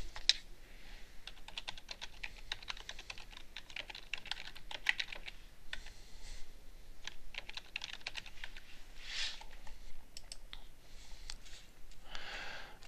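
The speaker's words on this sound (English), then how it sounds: "And so I'll just type in my account information here" Quiet, steady typing on a computer keyboard while account login details are entered, a continuous run of soft clicking keystrokes with occasional brief pauses and no talking.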